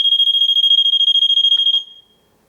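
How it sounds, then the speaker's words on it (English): A loud, rapid electronic beeping from a door alarm pulses steadily, then cuts off abruptly and leaves near silence. "the alarm will sound in 7 seconds after you open the door"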